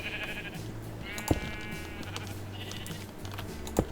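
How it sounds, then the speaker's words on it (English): A synthetic-sounding Minecraft sheep bleats a few times over a steady game background hum, with a couple of brief clicks between the calls. "Hello, sheep."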